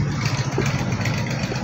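An Eicher 242 tractor fitted with a loader idles nearby with a loud, steady diesel chug and an even low rumble, running alone without speech.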